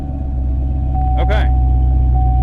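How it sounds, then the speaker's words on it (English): A 2015 Chevrolet Camaro Z28 V8 idles with a deep, steady, fairly loud rumble, and a person speaks briefly over it midway. "She sounds good, just on idle and startup."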